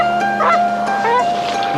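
Migrating birds, likely geese, giving several distant honking calls over a steady tonal background.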